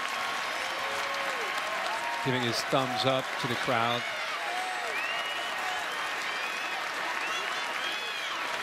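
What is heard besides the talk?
Ohio State fans clapping in stadium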